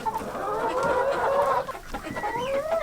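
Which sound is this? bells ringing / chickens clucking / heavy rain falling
chickens clucking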